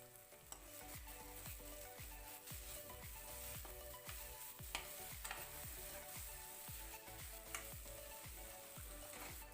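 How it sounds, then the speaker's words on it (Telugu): Cumin, garam masala and coriander powder being stirred into a sizzling egg masala curry, with a spoon scraping the pan in a steady rhythm over continuous close frying. "మొత్తాన్ని బాగా కలిసేలాగా మిక్స్ చేసుకోవాలి"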